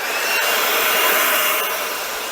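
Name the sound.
Makita battery-powered leaf blower running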